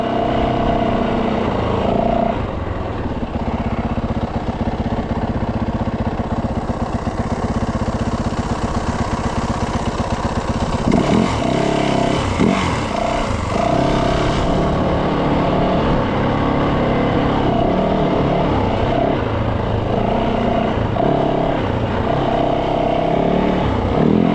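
A dirt motorcycle on a mountain trail runs with a steady, close engine drone, occasionally rising in revs and easing back over a long continuous stretch.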